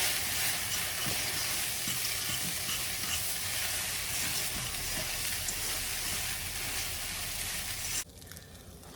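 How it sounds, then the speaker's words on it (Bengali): Instant noodles with egg stirred in a hot pan, a steady close sizzle of frying with scraping stir strokes throughout, cutting out abruptly near the end. "এখন নেড়ে চেড়ে নামাই ফেলবো।"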